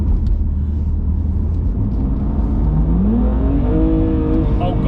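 A 2020 Audi RS6 with 720 bhp rumbles heavily from inside the cabin, its deep engine drone rising in pitch as it accelerates and revs harder toward the end, with voices mixed in over the noise.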